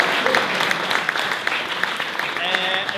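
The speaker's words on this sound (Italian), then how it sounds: "fateglielo un applauso a Giuseppe Gramaglia" Audience applause for Giuseppe Gramaglia at a presentation of Pirandello's "L'altro figlio": dense, steady clapping from a room full of people, with a few voices calling out.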